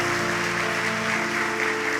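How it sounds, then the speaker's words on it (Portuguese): A congregation applauds during an evening church service, steady clapping mixed with sustained organ or keyboard tones that hold underneath, fairly loud and continuous throughout. "vamos aplaudir a Deus mais uma vez."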